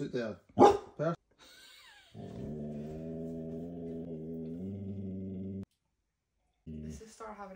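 A dog grumbling low and steadily instead of barking at someone outside the window, a sustained growl of about three and a half seconds, then a shorter one, with brief talk at the start.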